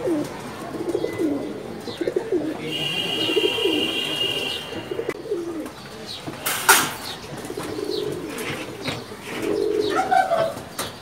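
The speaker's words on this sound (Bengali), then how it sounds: "খুব সুন্দর কবুতর" Pigeons in a loft coo repeatedly at close range, soft low throaty calls rising and falling, with a few brief chirps and a short flutter of wings, no voices.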